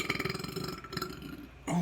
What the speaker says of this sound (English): That's a big burp.